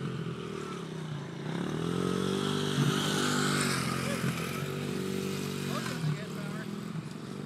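A kid's motorcycle engine revs with a steady harmonic drone, rising and dipping in pitch as the rider pops a first wheelie; excited voices chatter over it close by.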